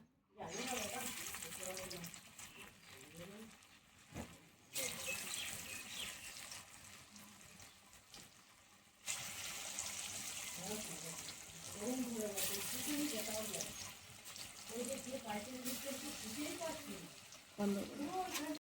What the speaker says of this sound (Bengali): এবার আমি কোপ্তাগুলো ভেজে নেব। এরকম কোপ্তার আকারে এরকম ভেজে নেব।